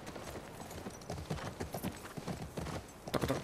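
Horse hooves trot in a steady, close clip-clop rhythm in The Last of Us Part II, each footfall distinct and loud, with no talking over them.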